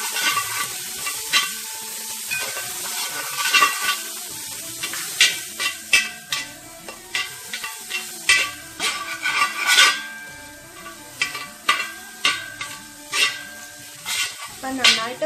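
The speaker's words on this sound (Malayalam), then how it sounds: "നന്നായിട്ട് വഴണ്ട് വരുന്നിടം വരെ ഇളക്കി കൊടുക്കാം." Plantain and broken wheat sautéing in a pan for Vishu payasam, with steady sizzling and frequent scraping, clinking stirs of a spoon against the pot, close and fairly loud throughout.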